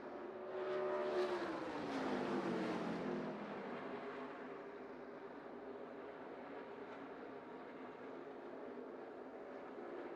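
ARCA Menards Series East race cars run nose to tail at Dover International Speedway, a loud engine roar sweeping past in the first few seconds, then settling into a steady, more distant drone of the pack circulating.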